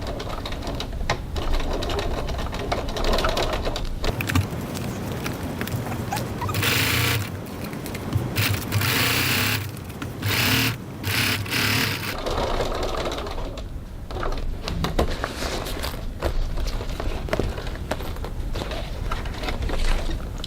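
A sewing machine stitches in a steady, close, fast mechanical chatter that runs almost continuously, with a few brief slowdowns between bursts.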